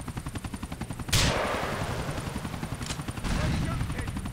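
A helicopter in the video game GTA 4 thrums with a steady, fast rotor pulse, joined by a sudden loud blast and bursts of heavy gunfire, while someone talks over the noise.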